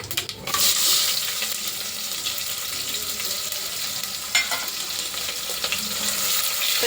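Chicken biryani ingredients fry in a pan with salt added, giving a continuous close sizzle. Occasional stirring scrapes and clinks break in, with no talking.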